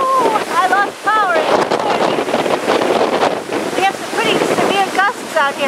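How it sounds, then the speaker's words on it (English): Strong gusts of Hurricane Sandy roar across the microphone outside a house, loud and continuous with rushing surges, while birds chirp repeatedly through the noise. "Gusts out here right now,"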